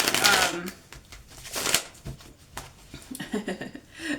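Quick riffling bursts of playing cards being shuffled, close up, with brief rustles and taps between them and some voice in the background.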